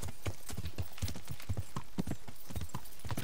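Steady, rhythmic clip-clop of horse hooves from the medieval game Kingdom Come: Deliverance, close and continuous with an even walking cadence.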